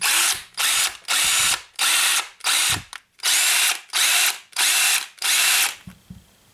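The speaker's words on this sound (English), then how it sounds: "first we're going to try the Ingersoll-rand so we can see the sparks coming out of the brushed motor" An Ingersoll Rand W7150 brushed impact wrench runs in eight loud, steady bursts of whirring hammering, each lasting under a second with brief gaps as the trigger is pulled and released.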